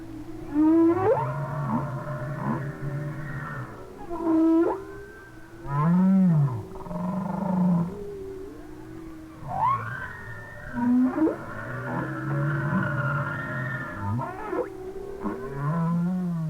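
Humpback whale song in winter waters: a series of long, loud moaning and whooping calls with rising and falling sweeps, groans and higher cries, repeated in phrases across the whole stretch with no voices.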